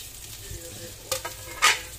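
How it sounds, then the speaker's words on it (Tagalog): Garlic and white onion sauté in a pan, a faint low sizzle broken by two sharp spatula scrapes near the end. "Isayin lang natin yung bawang. Tapos, sunod natin tong sibuyas"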